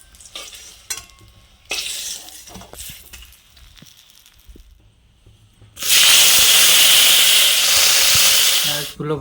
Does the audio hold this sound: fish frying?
yes